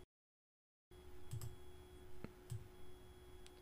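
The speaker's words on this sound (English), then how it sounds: "By clicking, holding, and dragging to the right." Faint computer mouse clicks while dragging an element in a WordPress page editor, a few soft, sparse clicks over low hum after a moment of silence.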